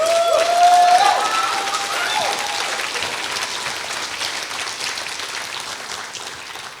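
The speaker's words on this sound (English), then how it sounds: "Can we get a good round of applause for all the faculty?" Audience at a 2023 awards ceremony applauds the faculty, a dense, loud burst of clapping that slowly thins and fades, with a brief whistle or cheer near the start.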